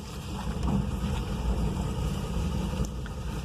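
A 1963 Plymouth Valiant engine with a sticking carburetor idles with a steady, rumbling low drone and rough, wind-like noise for several seconds.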